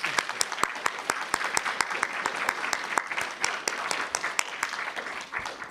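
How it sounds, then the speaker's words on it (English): Audience applause for faculty at a reading and artist talk, a steady round of many hands clapping at moderate volume with sharp individual claps standing out, sustained throughout with no talk over it. "can we have one more big round of applause for our faculty?"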